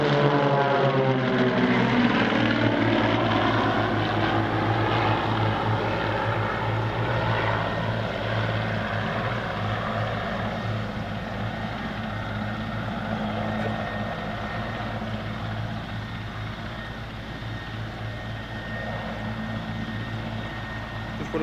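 A propeller aircraft coming in to land at an air show roars loud and close, its engine drone steady at first and slowly easing off as it passes.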